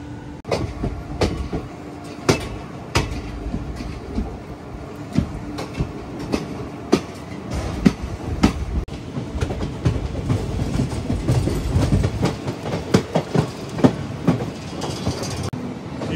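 A sleeper class train on the Dehradun to Charlapalli (Hyderabad) service pulls out of a station, its wheels clattering over rail joints in a steady clickety-clack with sharp metallic knocks and a continuous rolling rumble, heard from on board.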